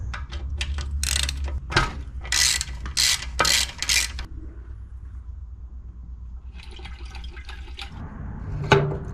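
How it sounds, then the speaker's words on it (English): A hand ratchet loosens bolts on a minibike gas tank: close, bursts of rapid clicking strokes in an uneven rhythm, a pause, then a few softer clicks and a sharp metallic tap. "Now we're taking off the gas tank, which requires one bolt here"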